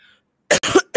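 Several sharp, close coughs burst out in quick succession after a brief quiet moment, loud and harsh, with no talking.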